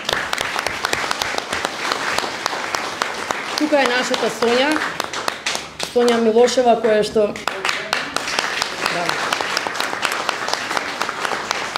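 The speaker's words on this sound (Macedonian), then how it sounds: "Би сакала да поздравиме со еден аплауз." An audience at a Pink October breast cancer awareness event applauds warmly, with sustained clapping filling the room while someone speaks over it into a microphone.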